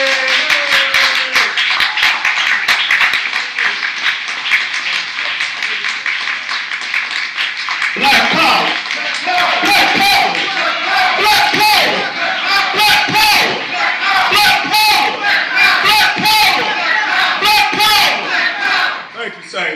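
Standing audience at a lecture event bursts into rapid applause and loud cheering and shouting, a dense, energetic crowd roar that continues throughout.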